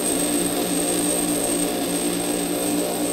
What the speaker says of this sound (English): As I'm grinding this high-speed steel, notice I have one finger supporting that tool bit.